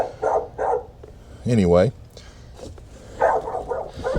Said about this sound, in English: that dog is barking for no reason